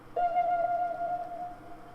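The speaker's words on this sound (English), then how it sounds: "Actually I had this guitar effect," A guitar effect accent processed with Fruity reverb, heard as a single sustained, slightly wavering tone that enters just after the start and holds steadily before fading near the end, alone over a faint background.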